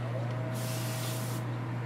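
Spray paint hisses from an aerosol or airbrush onto an X-Men Jubilee kit piece, a close, steady burst of about a second over a constant low electrical hum.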